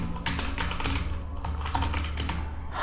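Quick, close clicks from a computer keyboard as someone types a short line of PHP code, keys tapping in uneven bursts with no voices.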